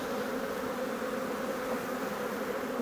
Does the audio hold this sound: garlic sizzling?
no